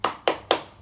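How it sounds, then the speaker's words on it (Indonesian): Three sharp, evenly spaced claps in a quick rhythmic classroom chant led by a teacher, close and crisp with brief gaps between them. "Tepuk semangat."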